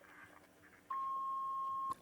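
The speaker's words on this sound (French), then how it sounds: "alors après le bip sonore," Answering machine beep: a single clean, steady electronic tone lasting about one second, loud and alone after a faint quiet stretch, with no voice.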